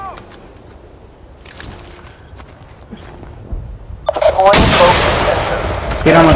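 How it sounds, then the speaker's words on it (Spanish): Gunfire in a competitive online shooter match, starting as faint distant pops and then swelling into a loud, dense burst of shots in the second half. "Disparos, veo disparos."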